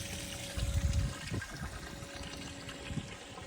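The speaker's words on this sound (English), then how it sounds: "I'll just put some water in, and then you're all set." Water gushes and trickles steadily, with a brief stronger surge early on, then a continuous running flow.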